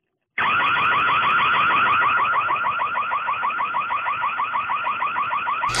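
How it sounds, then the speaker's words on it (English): A loud electronic siren from a floodlight security camera wails continuously with a rapid, repeating warble, starting abruptly after a moment of silence and sounding without pause. "I turned on the siren a couple of nights ago and tested out this very scenario."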